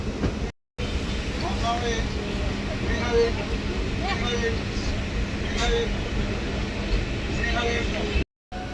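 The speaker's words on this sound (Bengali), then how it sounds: "ট্রেন ছাড়লো চন্দ্রকোনা রোড" Aranyak Express pulling out of Chandrakona Road station, heard from on board as a steady, loud rolling rumble with faint rhythmic wheel clatter.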